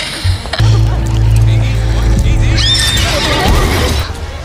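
Horse neighs loudly amid a dramatic scene, a sustained whinny over low droning music and background noise, with voices around it.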